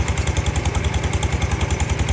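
A water well drilling rig's engine runs steadily, a loud close-up chugging drone with a fast, even pulse and no voices over it.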